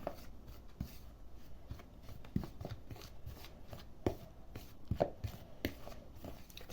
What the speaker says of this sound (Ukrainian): Все оце ми зараз перемішуємо.